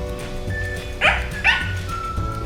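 A dog gives two quick yappy barks close by, separated by a short pause, over a faint background hum.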